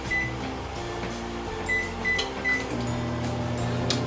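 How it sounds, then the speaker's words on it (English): A microwave oven runs steadily while cooking fresh quinoa noodles, giving a constant low hum with faint clicks and rattles over about four seconds and no talking. "and now we're gonna put it in microwave"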